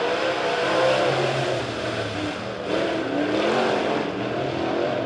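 A pack of USRA A-Modified dirt race cars accelerating off turn four at Springfield Raceway: a dense, continuous engine roar with rising and falling revs from several cars, heard from a distance with no talk.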